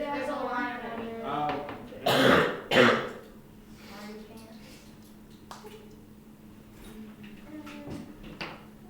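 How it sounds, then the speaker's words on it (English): A student in a classroom gives a couple of loud throat-clearing coughs in quick succession, with quieter voices talking before and after. "my cough back"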